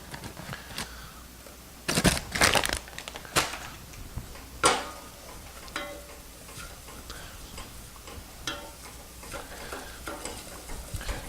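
Flour roux being stirred in a pan for a white sauce, with soft scraping strokes and a low sizzle, broken by a few sharp clattering knocks of the utensil against the pan.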